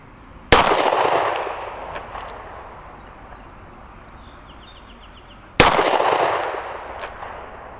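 Two sharp, loud gunshots from a Taurus Model 85 .38 Special five-shot revolver, about five seconds apart, each with a long ringing outdoor decay.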